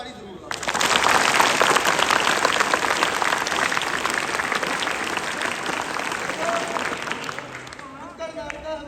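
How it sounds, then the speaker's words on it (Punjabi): A street-play audience at a live comedy nukkad natak breaks into loud, dense clapping that starts abruptly and holds steady for several seconds before easing off, with crowd noise mixed in. "ਉਸ ਤੋਂ ਪਹਿਲਾਂ ਇੱਕ ਜ਼ੋਰਦਾਰ ਤਾੜੀ ਜ਼ਰੂਰ ਲਾਓ।"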